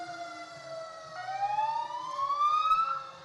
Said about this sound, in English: These emergency vehicles are part of the show